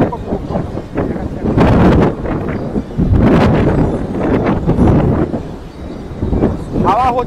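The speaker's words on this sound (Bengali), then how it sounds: "তবে এখানে প্রচণ্ড হাওয়া রয়েছে।" Strong wind gusting at Tajpur sea beach, buffeting the microphone in heavy rumbling bursts, loud and close, with a voice talking under the roar.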